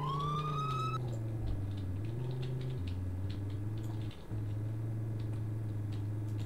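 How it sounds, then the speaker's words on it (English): Police sirens in a video game patrol near Blythe, California, a loud wailing siren sweeping up then holding and shifting pitch in steady cycles, continuous and close throughout. "since when I heard the sirens, I thought it was a pursuit"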